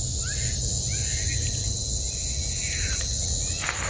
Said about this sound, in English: The crickets in the trees.